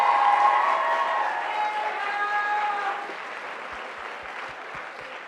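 Audience applause at a motorsport industry keynote event, a dense sustained clapping crowd that gradually fades, with a few sharp isolated claps near the end.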